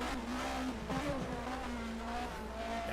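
A 1980 DRM Division 2 touring race car drops through the gears, its engine note falling and rising in pitch as it downshifts, loud and close, with other cars droning around it.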